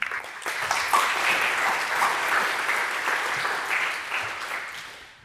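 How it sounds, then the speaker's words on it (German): Steady, dense applause from a live talk show audience, sustained and fairly loud for several seconds before gradually fading slightly. "Dann einen großen Applaus und viel Spaß."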